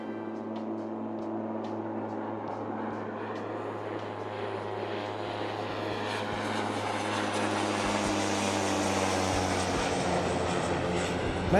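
A Blacksquare Caravan turboprop in the flight simulator MSFS2024 passes by, its droning engine and propeller hum building gradually into a fuller roar as it nears.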